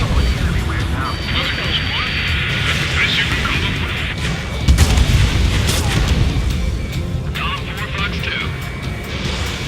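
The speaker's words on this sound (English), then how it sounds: "Missile away." Missile launch during an aerial combat mission in Ace Combat 7, a roaring whoosh with a boom about midway, layered over continuous jet engine drone and radio chatter.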